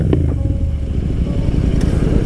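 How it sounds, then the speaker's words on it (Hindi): A BMW G310RR motorcycle exhaust rumbles close and loud, a steady low engine drone with a couple of brief sharp pops, running without any voices. "एग्जॉस्ट की साउंड से सारे उड़ गए"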